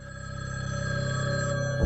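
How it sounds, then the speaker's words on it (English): A telephone bell rings continuously in a 1970s horror film, When a Stranger Calls, its steady electric trill loud and unbroken, with no voices over it. "It was the damn phone. I mean, that constant, terrible ringing."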